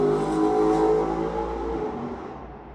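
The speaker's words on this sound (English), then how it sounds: "sorry, some noise from the road" A car roars past nearby, its engine loud and rumbling at first, then fading steadily as it moves away.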